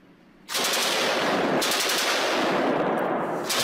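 AK-47 and a PKM-type general purpose machine gun in sustained automatic fire, a loud dense burst starting abruptly and running on continuously, with no talking.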